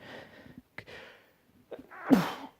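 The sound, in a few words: sneeze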